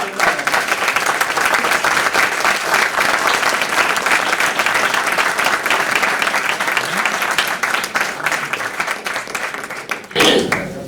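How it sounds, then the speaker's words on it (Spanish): Sustained loud applause from a large crowd, dense and steady clapping that fills the room and fades near the end. "Yo pido que nos aplaudamos."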